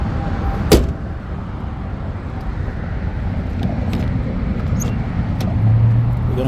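Steady rumble of a car driving after cold air intake cleaning, heard from inside the cabin, with a thump near the start and a few light clicks over continuous road and engine noise.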